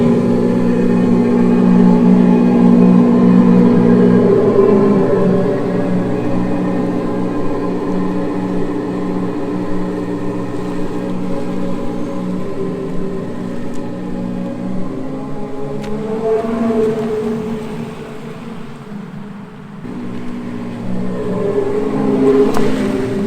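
A Tesla's external speaker system plays a simulated Corvette C8 Z06 engine, a loud, sustained droning engine tone with shifting pitch as the revs rise and fall, alone without talk.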